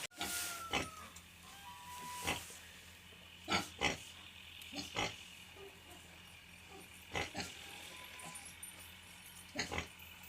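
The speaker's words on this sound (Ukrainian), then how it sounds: "Свинка їсть гарненько, все тут добре." A sow on a small farm eats from her trough, with faint snuffling, chewing and sharp wet crunches recurring at irregular intervals over a quiet, steady background.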